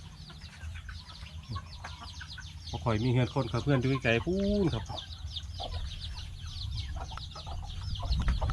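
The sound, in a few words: free-range backyard chickens clucking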